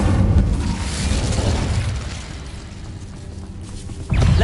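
Incendio fire spell bursting in a game: a loud, rumbling explosive whoosh at the start that fades over a few seconds, followed by a sharp new blast near the end.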